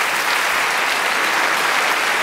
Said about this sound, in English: A round of applause for both our men.